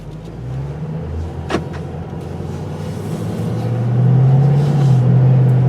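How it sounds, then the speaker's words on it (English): A 2007 Ford Mustang GT convertible's V8 engine hums steadily at low idle, then its deep rumble swells and holds louder toward the end as it pulls away. "You can't beat the sound of a V8."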